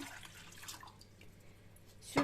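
Cold water is poured into a saucepan in a home kitchen, a faint, thin trickle with soft splashing that ends in a brief louder splash.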